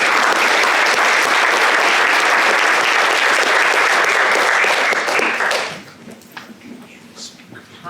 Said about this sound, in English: please, a giant round of applause and welcome for Cynthia